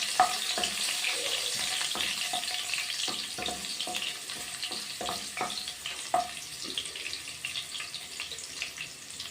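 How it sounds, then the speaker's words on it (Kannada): Garlic sizzling in hot oil in a pan for an onion and tomato masala paratha, a steady close hiss with scattered pops and crackles and light stirring scrapes. "ಬೆಳ್ಳುಳ್ಳಿ ಒಂದು ಸ್ವಲ್ಪ ಫ್ರೈ ಆಗಲಿ"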